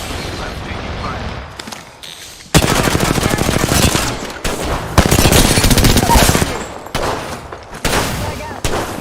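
Rapid automatic gunfire and heavy bursts in Call of Duty: Modern Warfare II multiplayer, loud dense volleys coming in repeated waves with brief gaps, mixed with squad voice chatter in the background.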